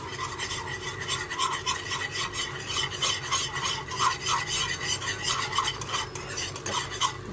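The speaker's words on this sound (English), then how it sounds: "Stir it well." A spoon stirs chili flakes and oregano through white sauce macaroni in a pan, making continuous close rasping scrapes over a gentle sizzle, with steady, evenly paced strokes and no talking.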